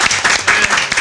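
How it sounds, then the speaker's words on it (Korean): A short burst of dense clapping from a crowd at a youth forum with a presidential candidate, steady and fairly loud throughout. "큰 박수 부탁드리겠습니다."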